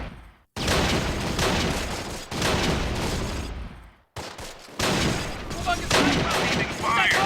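Gunfire in a Close Combat battle game set in the 1944 liberation of Mortain: loud, dense bursts of shots and heavy booms in several long volleys, broken by brief silent gaps.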